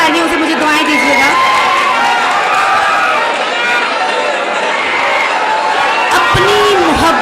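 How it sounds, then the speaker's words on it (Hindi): Loud, dense crowd applause and cheering from a mushaira audience at an Urdu poetry gathering in Dhule in 2018. It holds steady throughout, with a voice rising over the din at the start and again near the end. "आता है जोरदार तालियों से मुझे दुआएं दीजिएगा।"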